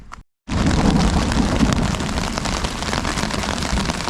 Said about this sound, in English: I don't know if you can hear that, but it's thundering.